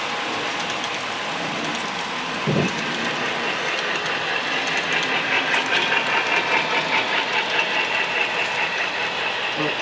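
A model railroad train rolls steadily along its track with a soft repetitive clatter, joined by a brief low thump early on; no voices.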